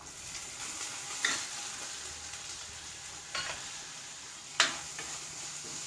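Chopped tomatoes sizzle softly in a pan, with three distinct scraping strokes of a spoon stirring them at irregular intervals, close and fairly quiet.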